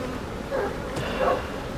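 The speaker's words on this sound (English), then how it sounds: "the amount of bees in here" Close, continuous buzzing of many honeybees in an open hive, a dense droning hum that swells slightly now and then.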